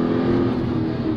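An American car accelerates hard, its engine giving a loud, steady, dense roar that fills a short moment without any talk.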